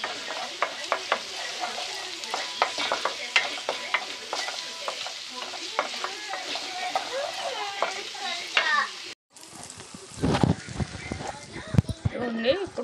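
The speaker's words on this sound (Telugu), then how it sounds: "ఇందులో అల్లం పేస్ట్ వేసుకొని ఫ్రై చేయాలి." Ginger paste frying in a pan for a Telugu-style fish pulusu, with steady sizzling and occasional stirring scrapes throughout, briefly cut off and then resuming with clattering.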